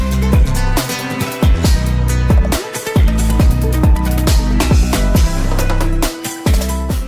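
Technical instrumental music plays loud and dense, with rapid, intricate guitar lines over punchy bass and drums in constantly shifting rhythmic patterns.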